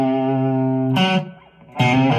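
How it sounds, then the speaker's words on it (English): Electric guitar with an effects unit and distortion plays the opening of West Side Story, starting with a long sustained note followed by two sharp, loud attacks, all without any voice. "Opening of West Side Story sounds like this."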